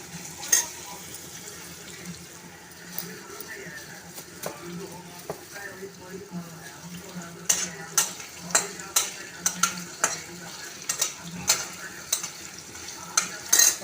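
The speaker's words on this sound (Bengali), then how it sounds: "পেঁয়াজটা একটু হালকা ভেজে নিচ্ছি" Onion fries lightly in oil with whole garam masala for a prawn pulao, a soft low sizzle running steadily while a spatula scrapes and taps the pan in scattered strokes, growing busier toward the end.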